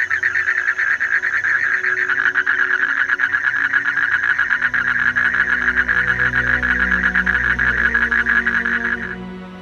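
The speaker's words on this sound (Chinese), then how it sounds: "终年可以享受青蛙鸣唱的乐趣。" Frogs croak in a mountain forest wetland near Sun Moon Lake, a dense, continuous, pulsing chorus, loud and close, running steadily for several seconds before fading at the end.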